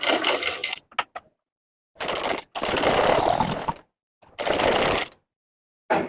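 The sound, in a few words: sewing machine stitching piping onto a blouse neckline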